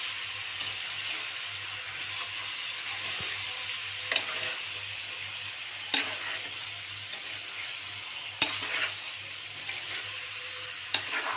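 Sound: stirring country chicken curry with coriander powder and garam masala

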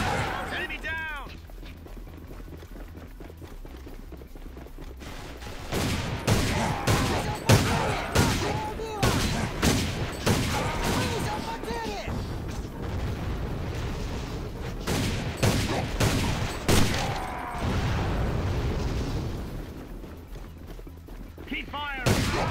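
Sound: gunfire in the video game A.V.A

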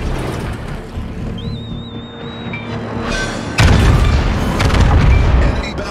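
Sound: enemy battleship sinking explosion in naval video game

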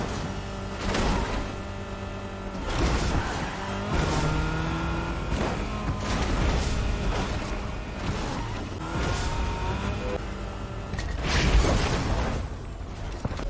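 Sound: car driving upside down in Fortnite video game

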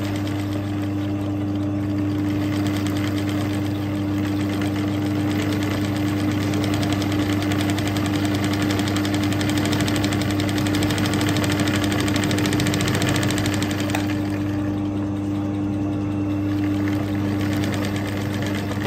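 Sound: embroidery sewing machine stitching a zigzag

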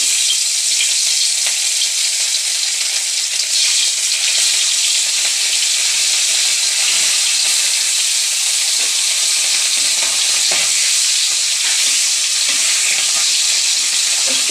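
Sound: fish frying in hot wok

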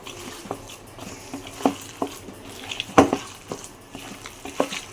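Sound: mixing ground lentil and rice batter with onion and chilli

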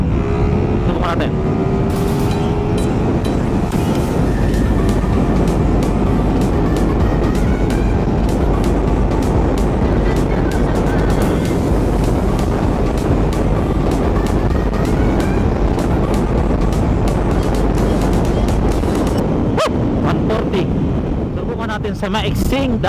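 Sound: Suzuki Raider 150 carb motorcycle engine accelerating in 4th gear

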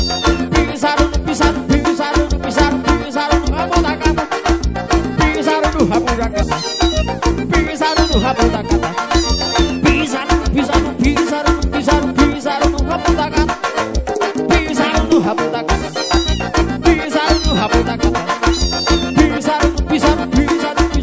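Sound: cat meowing after its tail is stepped on, in a song

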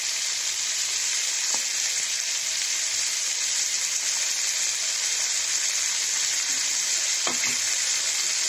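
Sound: sautéing kundru vegetable with poppy seed paste

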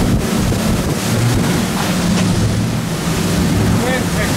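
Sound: wind blowing over a fishing boat at sea

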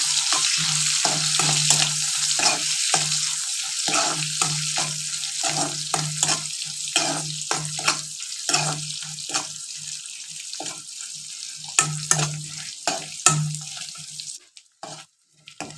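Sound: drumstick pieces frying in a pan

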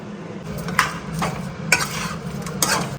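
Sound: salt being stirred into chilli chicken in a pan

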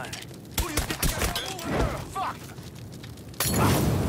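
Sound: grenade explosions and gunfire in video game Mafia 3

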